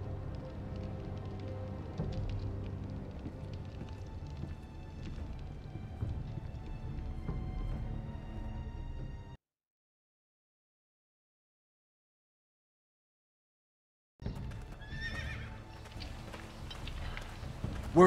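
Rapid hoofbeats of a running horse in the Game of Thrones Telltale video game, a steady dense patter that cuts to silence midway and then resumes loudly.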